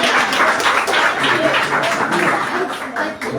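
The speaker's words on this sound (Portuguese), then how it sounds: "aplauda ao Senhor em nome de Jesus" A church congregation applauding during a women's department worship service, dense continuous clapping from many hands filling the room, with a voice faintly underneath.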